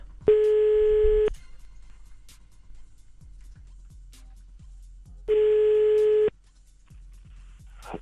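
A telephone redials after a hung-up call: two long, loud electronic tones about four seconds apart, with soft ticking clicks in the quiet between them.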